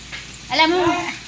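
Ham frying in hot oil in a pan, with a short burst of sizzling and crackling rising mid-clip, close and moderately loud.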